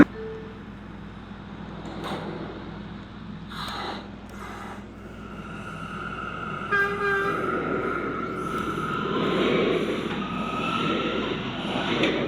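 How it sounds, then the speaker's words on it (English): A World Trade Center bound E subway train at a New York station gives a few horn or whistle tones, then a rising rush of rail noise as it moves, heard fairly close. "This is a World Trade Center bound E train."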